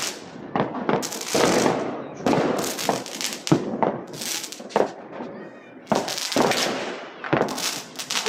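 New Year's fireworks exploding in rapid, overlapping bursts of loud cracks and crackling bangs, with voices talking intermittently among the blasts.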